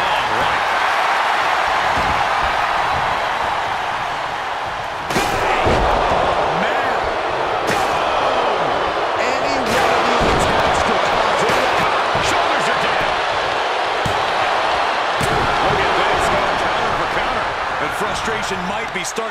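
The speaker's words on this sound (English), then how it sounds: "The sound of this crowd is deafening" Loud, roaring arena crowd in a wrestling video game, a continuous dense wall of cheering with sharp slams cutting through, while a commentator talks over it.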